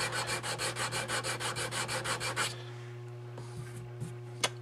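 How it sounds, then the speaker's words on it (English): Sandpaper taped to a block rubs back and forth over a wooden rifle tenon in about a dozen quick, even strokes, close and clear, then stops, leaving a low steady hum and a few faint knocks. "I'm just going to take that sandpaper, and I'm going to go over it until I've got all of the sides true to the flats"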